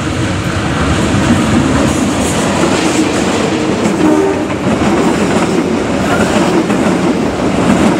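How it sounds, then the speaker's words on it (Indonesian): Passenger train Tawang Alun from Banyuwangi to Malang, hauled by a special CC01 locomotive, rumbles past at speed, with a loud, steady roar of wheels and rail clatter running continuously throughout. "kita merekam KA Tawang Alun dari Banyuwangi, tujuan Malang, yang ditarik oleh loko spesial CC01 berkode R"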